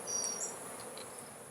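Honeybees buzz faintly in an opened hive full of brood, a soft steady drone with a few individual bees whining briefly past up close.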